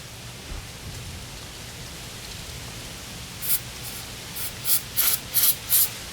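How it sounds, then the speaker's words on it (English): Short hissing bursts of silicone lubricant spray on a 2010 Toyota Corolla drum brake, several quick squirts in a row near the end, over quiet background noise. "I could spray, take some silicone, put a little bit on it"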